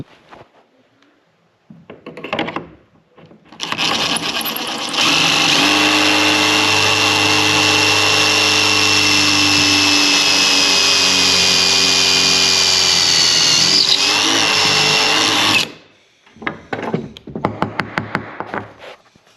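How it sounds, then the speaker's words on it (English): A power drill whines loudly for about ten seconds drilling pocket holes with a Kreg jig, bracketed by brief handling knocks and short bursts of drilling before and after. "just hold it down like this and then drill the hole."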